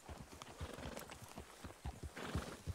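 Hoofbeats of a very large horse clip-clopping at a steady rhythm in Red Dead Redemption 2, near and fairly loud, with a faint whinny.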